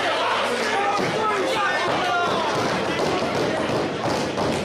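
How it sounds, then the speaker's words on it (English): Wrestling fans pound on the ring apron in a loud, dense barrage of thuds and slams under constant crowd noise, with excited voices talking throughout. "Fans are slamming onto the ring."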